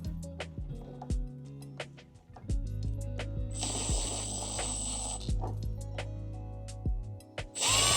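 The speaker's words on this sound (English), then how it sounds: "let's go ahead and drill into this." A power drill bores into the plastic track fairing of a Honda CBR600RR motorcycle, whirring in several bursts with a sustained high-pitched run midway, mechanical and close, with no talk.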